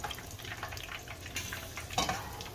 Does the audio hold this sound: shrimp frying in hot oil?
yes